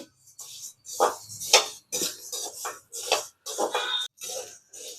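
Kurma masala ingredients dry-roast in a pan in small batches, a spoon clinking and scraping against metal in short irregular bursts with brief quiet gaps, close and fairly loud, no voices.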